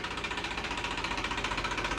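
An Eicher 380 tractor in original company condition, with a water-cooled Simpson engine, runs close by with a steady, rapid knocking beat.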